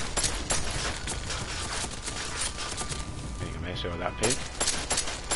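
Turret gunfire in the action game Deus Ex: Mankind Divided, a dense, steady hail of rapid shots with clatter and impacts throughout, while someone talks over it.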